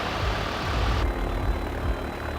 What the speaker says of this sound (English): And set for takeoff. Power up.